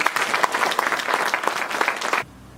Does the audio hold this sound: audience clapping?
yes